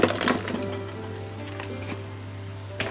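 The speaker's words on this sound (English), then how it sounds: "Now to this I'll add red fried paneer cubes." Fried paneer cubes sizzle in a pan of North Indian paneer masala, a steady moderate frying hiss with a brief louder crackle at the start and a faint stir near the end, no talking.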